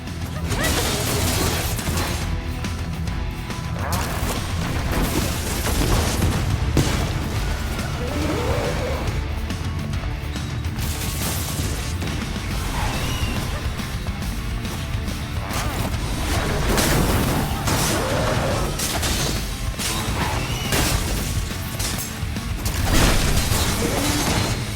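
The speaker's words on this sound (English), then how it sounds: "every time you defeat them, they explode where they are, so you gotta defeat them then run away so you don't get hit by the explosion" Defeated enemies explode in a roguelike video game, giving a dense, continuous barrage of crashes, booms and mechanical clatter. The game audio stays loud throughout with no clear pauses.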